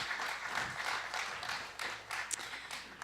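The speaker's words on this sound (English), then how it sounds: "Yeah, you can go ahead and clap for that." Audience applause in a church service, a steady wash of many hands clapping that swells and fades over a few seconds, heard alone without talk.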